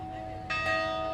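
A bronze bell, one of those cast for Ohio's 2003 Bicentennial, rings on a float in a Fourth of July parade, struck once or twice in quick succession with a clear, sustained tone.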